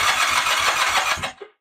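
A 1979 Kawasaki KZ400 motorcycle engine starts up after the ignition is switched on. It gives a loud, close, rhythmic chugging for over a second, then cuts off abruptly, followed by a brief faint knock.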